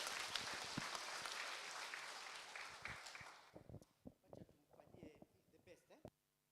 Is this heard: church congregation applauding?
yes